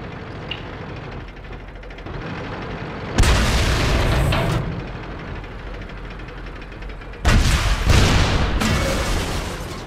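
Tank guns firing in World of Tanks during a clan wars battle, two loud booming shots several seconds apart with echoing tails over a low engine rumble.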